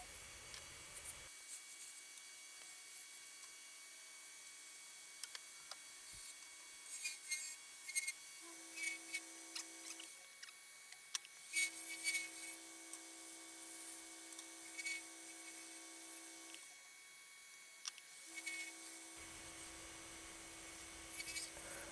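Steady grinding rasp of a wood lathe tool cutting a spinning piece of walnut, with a sustained hum that shifts pitch as the cut changes; no talking.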